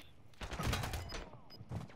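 Rapid video game gunfire rattles in a short, dense burst during a killcam replay, loud and close, with a brief pause before a few more shots.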